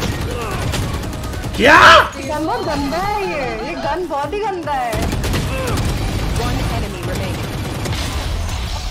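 Gunfire in the tactical shooter Valorant comes as a loud, close burst of rapid shots, then quieter game sounds as players talk excitedly over it.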